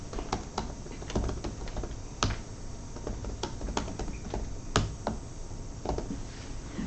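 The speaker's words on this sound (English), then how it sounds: "if I start typing something here, it shows up on my screen" Fingers tap a computer keyboard in an uneven stream of close, clicky keystrokes, with a few louder presses standing out over a steady low background hum.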